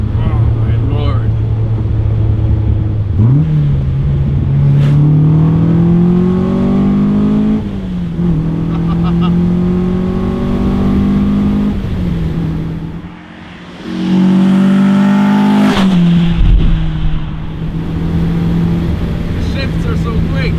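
A classic BMW straight-six engine pulls hard and loud, its pitch rising through several gears with quick shifts and short dips between them. A voice talks over the engine.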